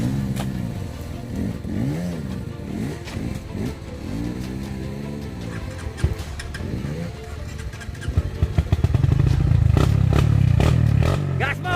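Motorcycle on a muddy track, engine revving harder and louder toward the end at full throttle, with people talking over the rumbling engine beforehand.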